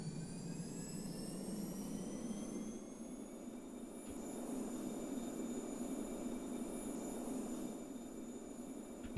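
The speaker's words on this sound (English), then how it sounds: "And now we need to start the APU, and the APU then starts the engines." Auxiliary power unit of a Su-35S fighter jet spooling up in the DCS flight simulator, a steady whining turbine roar with rising high-pitched tones, constant and fairly loud with no talk over it.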